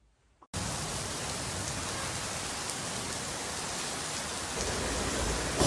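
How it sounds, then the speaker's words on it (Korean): Sudden steady rain pours down, starting abruptly after a brief quiet moment and continuing as dense, even hiss with no talk. "뭐야, 갑자기 이렇게 비가 내리고 있어."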